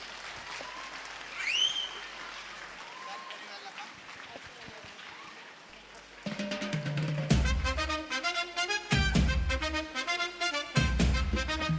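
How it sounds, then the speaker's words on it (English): Audience clapping and cheering at a school annual day celebration fill the first half, then loud music kicks in and carries on over the continuing noise. "Audience, please give a huge round of applause."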